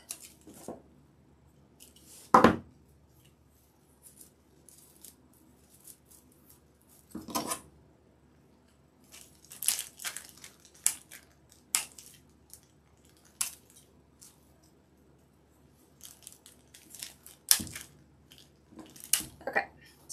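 Pruning shears snip boxwood branches into pieces for a sunflower swag, a few sharp crisp cuts spaced out among soft rustling of foliage, fairly close and quiet, with no talking.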